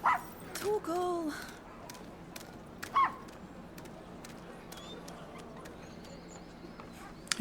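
A puppy barks and yips in the video game Final Fantasy 16, a few short high yelps near the start and another around the three-second mark, fairly faint against quiet game ambience.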